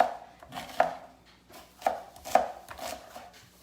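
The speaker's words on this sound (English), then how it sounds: "so we're just gonna chop up our onion" An onion is chopped with a knife on a board, a handful of separate crisp thunks spaced irregularly about half a second to a second apart, close and clear with no talking.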